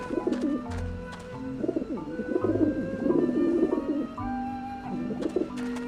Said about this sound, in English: That is a lot of pigeons.